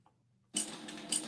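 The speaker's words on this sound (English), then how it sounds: "I'm just sewing on my lining real quick" A sewing machine stitches a lining, starting after a brief quiet moment and running steadily and faintly for under a second.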